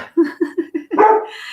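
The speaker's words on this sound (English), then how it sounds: "And that's my dog." A dog barks several times in quick succession at close range, four short yips followed by a longer, rougher bark, with no talk over it.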